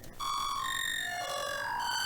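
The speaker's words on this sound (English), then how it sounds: "If I turn off correlate on both of them, it's even more smeared." Phase Plant synth with pitch-shift granular smearing, correlate off on both layers: one sustained, steady tone with stacked bright harmonics that bends and slides in pitch, heavily blurred and continuous, heard alone.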